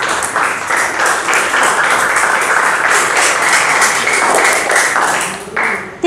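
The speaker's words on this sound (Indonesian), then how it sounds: "Ya, tepuk tangan untuk Fiona dan kelompok yang berhasil" Students in an Indonesian classroom applaud a group, a loud, steady wash of many hands clapping together for about six seconds before thinning out at the end.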